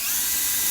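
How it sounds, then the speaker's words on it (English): A power drill bores a hole into the bottom of a metal bear bait can, a short, loud, steady high-pitched grinding whir heard up close. "we're going to drill 4 holes in the bottom"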